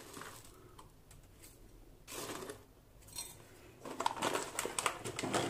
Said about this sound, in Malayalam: ഇത് ഉപ്പിട്ടിട്ട് നന്നായിട്ട് ഇളക്കി കൊടുത്തിട്ടുണ്ട്